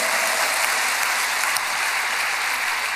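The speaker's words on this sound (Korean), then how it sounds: "하나님께 영광의 박수 올리겠습니다." A church congregation applauds during an early-morning worship service, dense continuous clapping from many people filling the room evenly throughout, with no speech over it.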